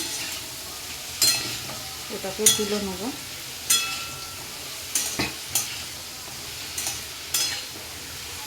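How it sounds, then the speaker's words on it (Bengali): Potatoes fry in a pan for a Bengali poppy-seed dish, with a continuous low sizzle punctuated by sharp spatula stirs and scrapes, and a person speaks briefly over the cooking. "এদিকে আমার আলুটাও ভাজা ভাজা হয়ে এসছে"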